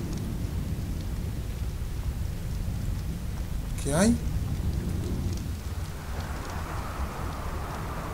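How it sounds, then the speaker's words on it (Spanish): Steady broadband wind roar of a video-game sandstorm in a desert survival world, a continuous hiss filling the whole stretch with one brief whooshing swell midway, under a short spoken question. "Ya sabemos que así es la tormenta de arena."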